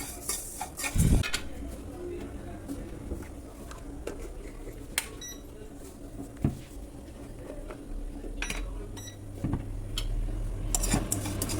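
Vermicelli frying in a pan while being stirred for Ugadi payasam, heard as scattered light metallic scrapes and clinks of a utensil against the pan over a low steady sizzle, with no talking.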